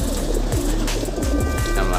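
Soft, low pigeon coos repeat several times close by, with a faint mechanical hum and a thin tone running underneath.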